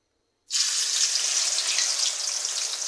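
Chickpeas hit very hot oil at once, setting off a sudden loud sizzle that holds steady as a dense, close hiss and crackle of frying.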